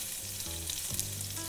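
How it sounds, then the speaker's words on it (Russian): Veal liver frying in a hot pan on a stovetop, a soft, steady sizzle and crackle that continues evenly and quietly with no talk over it. "пока наша печень здесь жарится"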